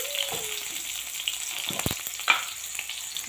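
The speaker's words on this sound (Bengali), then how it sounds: "পেঁয়াজগুলো লাল লাল করে ভাজা হয়ে গেছে।" Chopped onions and green chillies fry in hot oil in a home kitchen, giving a soft, steady sizzle close by with a few sharp clicks of stirring and no speech.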